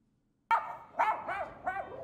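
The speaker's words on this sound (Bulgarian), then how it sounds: "Откъде лае?" After a moment of silence a dog barks four times in an uneven sequence, sharp, close and fairly loud, with short pauses between barks.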